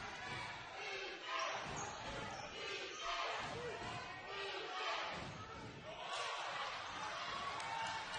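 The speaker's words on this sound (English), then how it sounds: "Good crowd here tonight in Mustang Arena if you can't hear it" Crowd noise fills Mustang Arena during a varsity girls basketball game, a steady roar of voices and cheering with rhythmic thumps of the ball bouncing on the court, and distant talk mixed in.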